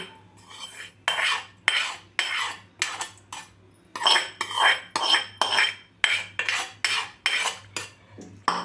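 A spoon scrapes and clinks steadily against a container while oil is stirred through amla pickle, the rhythmic strokes close and clear with a faint low hum beneath.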